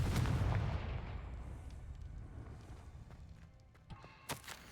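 The Confringo fire spell from the video game Hogwarts Legacy goes off as a loud, booming blast at the start, then a long rumbling decay. A few sharp crackling pops follow near the end.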